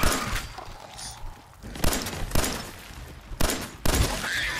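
Gunfire in the video game Fallout 4, a series of loud sharp shots at irregular intervals over a rumbling battle background.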